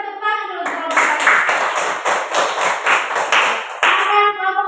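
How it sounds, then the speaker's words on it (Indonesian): A classroom group applauds for the first presenting team, a burst of many hands clapping in a fast, dense patter that runs several seconds, with a few voices heard at the start and end. "Kita tepuk tangan dulu kelompok 1."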